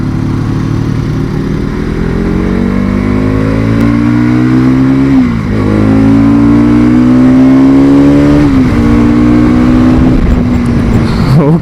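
Bajaj Pulsar NS200 motorcycle, 2025 model, accelerating through the gears, its loud steady engine drone rising in pitch, dipping at two gear shifts, then climbing again, heard close up.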